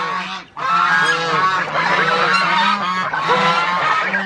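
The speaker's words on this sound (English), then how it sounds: "the white Chinese geese are not very friendly" Several white Chinese geese honk loudly and continuously up close, their harsh overlapping calls forming a noisy, insistent chorus.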